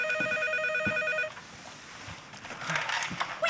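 A telephone rings indoors with a loud, repeating electronic trill that cuts off after about a second, followed by quiet room sound and brief rustling.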